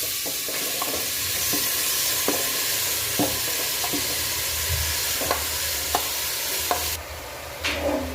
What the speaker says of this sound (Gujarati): હવે આપણે એમાં ગાજર નાખી દઈશું જે મેં છીણીને મૂક્યા હતા